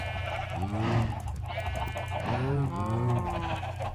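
Several sheep bleat in a Minecraft game world, their wavering calls rising at about one second and again near two and a half to three seconds over a steady drone of game background sound.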